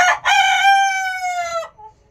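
Sonali chickens about five and a half months old on a poultry farm, with one rooster giving a single loud, close, drawn-out crow lasting about a second and a half, with no talk.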